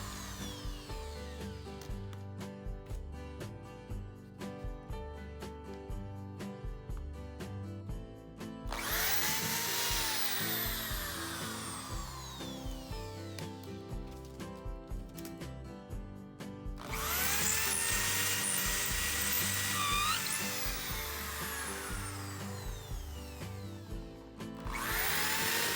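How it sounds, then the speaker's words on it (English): A power drill whines loudly as it bores pilot holes through plywood in two sustained bursts, with quieter mechanical handling noise between them. "Now I drill holes for them in the plywood. First I drill a pilot hole."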